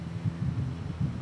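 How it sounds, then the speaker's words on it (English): A plane flies overhead, giving a low, steady drone that throbs gently in slow pulses. It is faint and continuous, with no talking. "The noise you can hear is a plane flying overhead."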